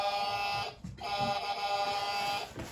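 A toy JCB construction vehicle's electronic horn sounds a bright, buzzy tone, briefly interrupted and then resuming steadily for a couple of seconds before fading.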